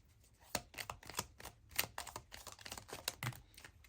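Tarot cards being shuffled and handled up close: a quick, irregular run of soft flicks and taps as the cards slide and snap against each other, with no voice.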